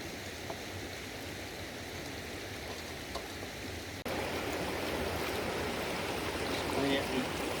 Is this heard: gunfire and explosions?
no